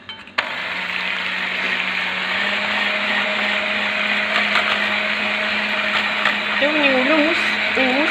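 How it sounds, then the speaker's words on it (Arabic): An electric mixer whirs loudly and continuously, beating three eggs for flan caramel, its steady drone running the whole time with a brief click at the start and its pitch wavering near the end. "ونطلعهم بالباتر."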